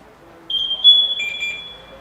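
A steady high electronic alarm tone sounds alone in a quiet room at a fire department, with a second pulsing beep joining partway through.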